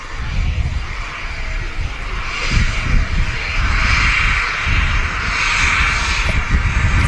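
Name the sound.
Airbus A380 jet taxiing at Manchester Airport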